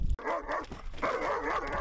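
Rescue dogs from a firefighters' canine rescue unit bark in two sustained, fairly loud bursts, the second lasting longer, heard close by with no talk over them.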